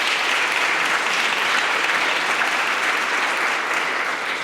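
Dense, sustained audience applause at the European Youth Charlemagne Prize ceremony in Aachen, a large crowd clapping loudly and evenly throughout without pause.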